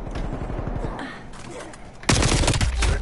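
Video game gunfire in a multiplayer shooter match, scattered shots early then a sudden dense burst of rapid automatic fire close and loud in the final second, with faint voices underneath.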